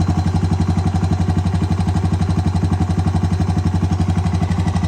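A clapped-out 2007 Honda TRX250TE ATV engine idles close by with a steady, rapid, even chugging beat and a faint mechanical clatter over it, alone and unchanging for several seconds.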